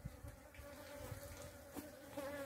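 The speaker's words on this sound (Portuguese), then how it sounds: "As abelhas bem loucas agora que eu abri a porta." Bees buzzing around yellow Colombian pitaya flowers in a small shaded greenhouse, a continuous faint hum with a few louder passes close by, no voices.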